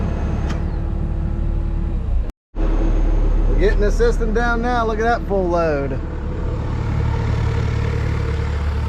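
A tractor engine runs steadily under heavy load while hauling stumps on a land-clearing job, a continuous low mechanical drone broken by a brief cutout, with someone talking over it.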